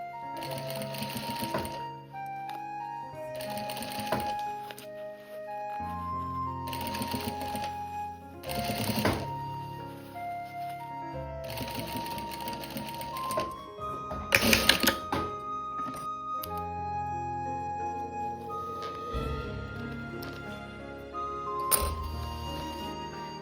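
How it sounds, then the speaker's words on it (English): A sewing machine stitches the opening of a kimono-fabric pouch closed in several bursts of steady whirring, separated by short pauses, close and moderately quiet, with light clinks and handling between runs. "Once the shape is set, sew the opening closed."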